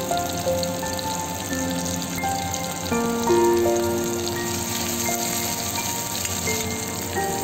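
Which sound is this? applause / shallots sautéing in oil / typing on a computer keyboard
shallots sautéing in oil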